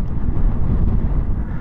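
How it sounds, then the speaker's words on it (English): Strong wind on the Arctic Ocean coast roars steadily across the microphone, a loud, continuous low buffeting rush with no other sounds standing out. "But so windy."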